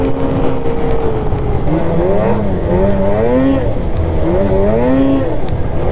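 A Starfire 862cc stroker engine, apparently in a snowmobile, revs hard at high RPM, its loud pitch climbing and dipping in repeated rising sweeps over a steady roar with no talk.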